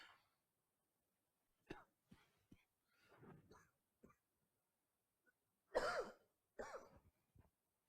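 Several coughs and throat clearings, brief and scattered, close to the microphone and fairly quiet, with gaps of silence between them.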